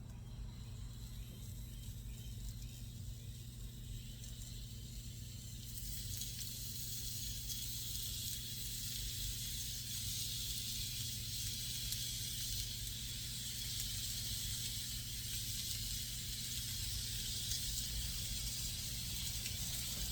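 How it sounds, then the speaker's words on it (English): Steady, loud sizzling of lamb chops frying in a hot pan, a continuous bright hiss that grows fuller after a few seconds, with no talking. "it does sizzle"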